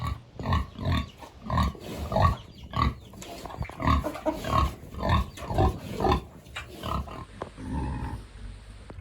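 Several pigs on a small farm grunt and oink in a rapid, rhythmic series of close, fairly loud snorts, nearly continuous with short gaps.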